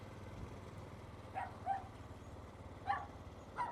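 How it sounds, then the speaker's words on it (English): A dog in a busy Old West tourist town in Tombstone, Arizona, giving a few short distant barks and yips spaced apart over a low rumble of background traffic and crowd noise. "That's a mean dog."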